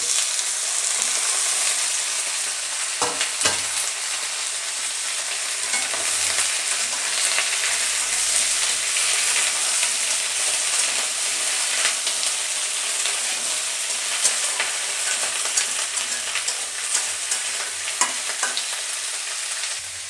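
Vegetables fry with browned onions in a pan, a dense steady sizzle that carries throughout, with a few sharp scrapes and clicks from stirring.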